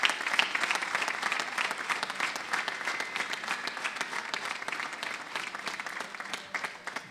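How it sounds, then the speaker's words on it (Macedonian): A crowd at an outdoor political rally applauds to welcome the new Grom coalition, a dense, continuous wash of many hands clapping at steady volume throughout, without speech on top. "ве повикувам со еден громогласен аплауз да ја поздравиме нашата нова коалиција Гром"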